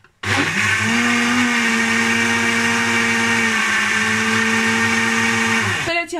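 An electric blender whirs loudly and steadily for about six seconds while mixing semolina batter for a chocolate basbousa, then cuts off abruptly.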